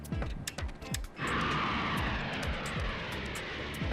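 Airplane in flight in the Death Note anime: a brief cluttered passage gives way to a loud, steady engine roar that fills the rest of the clip, with scattered clicks above it.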